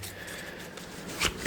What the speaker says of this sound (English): We are now going to shuffle the main deck of cards.